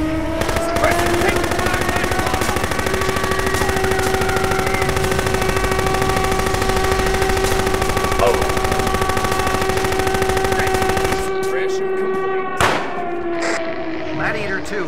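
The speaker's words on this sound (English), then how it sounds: "I need suppressive fire." Sustained suppressive machine gun fire in Close Combat: First to Fight, a loud, unbroken rapid stream of shots for about eleven seconds over a steady tonal hum, then stopping abruptly with a few scattered sounds after.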